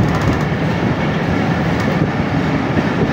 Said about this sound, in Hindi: हमारी ट्रेन को चलाया है यहाँ से